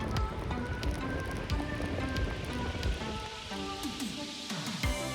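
Steady rain patters on a surface outside a thrift and pawn shop in Fredericton, a continuous dense hiss with a few louder drops, close and even throughout.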